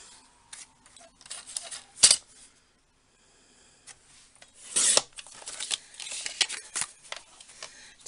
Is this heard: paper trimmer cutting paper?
yes